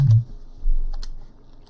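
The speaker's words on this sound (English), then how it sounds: "So if I press B or M or J, M, you can play with your keyboard." Computer keyboard keys tapped to play notes in free music-making software, two or three crisp close clicks spaced about a second apart with nothing else around them.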